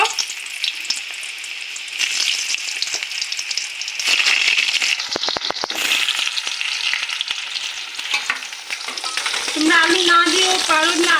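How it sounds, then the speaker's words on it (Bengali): Potatoes sizzle and crackle steadily in hot oil in a wok, with occasional stirring clatter and louder bursts of frying toward the end. "আলুগুলো এই যে আলুগুলো ভেজে নেব"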